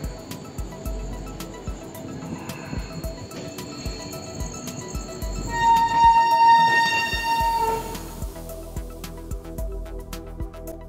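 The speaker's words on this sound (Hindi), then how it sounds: "Local train." Rumbling local train ride near Howrah, India, with rhythmic clatter and a sustained high whistle-like tone in the middle, steady and close, no talk.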